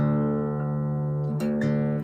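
Two guitar strings, the low E and the D, ring together in a sustained tuning check, their steady tones overlapping with a slight beating, with a couple of soft plucks near the end and no talking.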